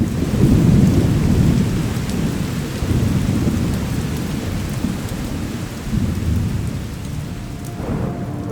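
Heavy rain falling during a thunderstorm while sheltering in a hotel room, a loud continuous downpour with deep rumbling thunder rolling underneath throughout.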